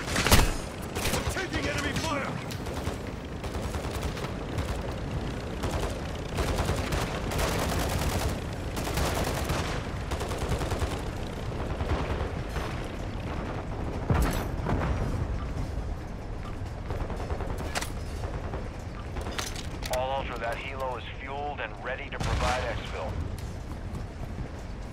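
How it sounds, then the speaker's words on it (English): Dense, continuous gunfire from Call of Duty Modern Warfare 3 rattles throughout as rapid bursts and booming shots, with shouted voices mixed into the battle. "Taking enemy fire!"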